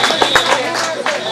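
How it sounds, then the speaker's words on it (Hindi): An audience at a community gathering clapping loosely, with scattered close claps and a crowd murmur that holds steady through the short stretch, mixed with voices. "सभी के लिए जोरदार तालियां बजाई जाए।"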